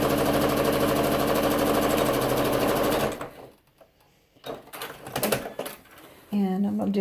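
A domestic sewing machine runs fast and steady, stitching two close parallel rows for a soft fabric needle book, then stops; a voice speaks briefly afterward.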